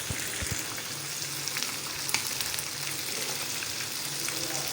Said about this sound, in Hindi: चार से 5 मिनट हम इसको भून लेते हैं।